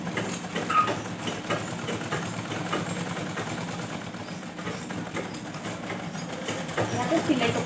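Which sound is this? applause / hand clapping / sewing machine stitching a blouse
sewing machine stitching a blouse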